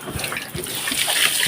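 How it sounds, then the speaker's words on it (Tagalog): Water poured into a pig pen's drinking trough, a close splashing and trickling with a few soft splats, alone and fairly loud. "Lalagyan ko naman sila ng inumin nila."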